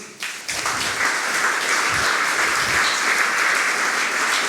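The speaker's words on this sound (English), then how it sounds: "I ask you to raise your hand and receive a big applause" A conference audience at a startup event gives volunteers a big round of applause, a loud, dense, continuous clapping from many people in a large hall, starting abruptly and holding steady to the end.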